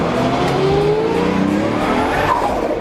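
A VW MK3 VR6 turbo car engine runs loud and close, with rising and falling revving tones and a faint high whine over a steady rumble throughout.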